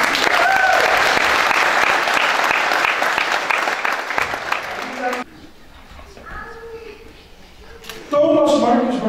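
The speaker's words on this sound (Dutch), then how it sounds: "dames en heren, geef ze een ovationeel applaus" Wedding guests applaud the couple in loud, dense clapping that stops abruptly midway, leaving quieter murmuring and talk before the applause swells back.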